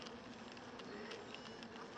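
A hornet buzzes inside an anti-hornet tent where it has just caught a bee, a faint, steady insect drone with a few brief flutters.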